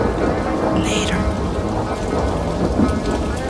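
Heavy rain pours steadily outside during a thunderstorm, a dense close hiss with low rumbling thunder beneath it throughout.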